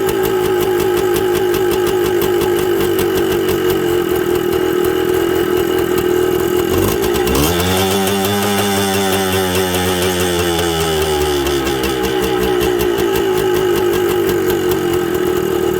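A Suzuki TS125 motorcycle engine idles loudly and steadily up close, then its pitch dips and slowly rises again midway as the idle speed is adjusted, with no talking.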